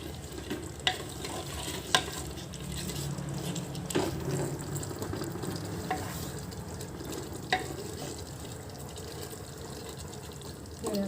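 Spices for chicken egg biryani stirred and frying in a pan, a steady low sizzle broken by several sharp scrapes and clinks of the spoon, moderately faint and with no one talking.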